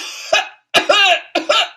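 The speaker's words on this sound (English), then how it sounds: "That's quite a cough, madame." A woman in a stage production of Tartuffe gives a series of short, harsh coughs in quick bursts, close and loud, with brief pauses between them.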